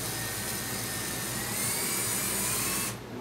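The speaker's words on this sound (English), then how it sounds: "sorry for the noise, but I have all the AC on" Steady broadband whooshing hum of air conditioning running close by, continuous with no talk, cutting off abruptly near the end.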